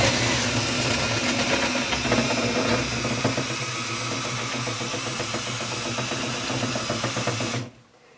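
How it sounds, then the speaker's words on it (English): Power drill spinning a rotary chimney-cleaning whip head up inside a chimney, a loud steady whirring drone with rattling scrape that runs continuously for about seven seconds, then cuts off abruptly. "you're going to turn your drill on. And this is going to make a little bit of noise because you are up inside your chimney"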